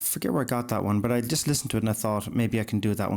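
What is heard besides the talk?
No everyday noises stand out.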